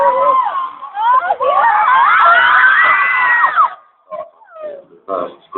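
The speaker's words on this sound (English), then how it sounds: "So I don't actually see the crowd, I just hear them." A concert crowd cheers and screams at high pitch, a dense sustained roar of mostly young voices for several seconds, then breaking into scattered shrieks and shouts that fade in and out.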